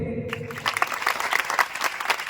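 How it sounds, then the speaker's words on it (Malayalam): Audience applause from a crowd at a live comedy stage show in Pathanamthitta, Kerala, a steady dense clatter of clapping that starts after a brief low murmur and carries on evenly to the end. "ഇപ്പൊ ഞാൻ നിർത്തുമ്പോൾ എനിക്ക് നല്ലൊരു കയ്യടി"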